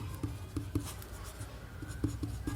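A pen writes on paper while a Class 10 quadratic-equations maths problem is worked, giving quick, close scratching strokes in a steady irregular rhythm with no talk.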